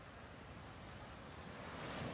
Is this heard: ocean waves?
yes